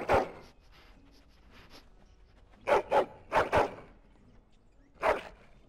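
Hound barking in the Dragon Age Origins video game: a few loud, close barks, first a single one, then two quick pairs and a final bark, with quiet gaps between them.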